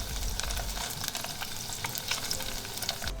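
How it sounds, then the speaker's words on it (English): Fried tofu puffs lightly pan frying in a pan, with a close, steady sizzle and crackle and some stirring, with no talk. "Prepare some fried tofu or pink curd if you like to call it. I will normally lightly pan fry them."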